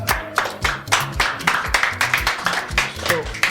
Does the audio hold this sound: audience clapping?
yes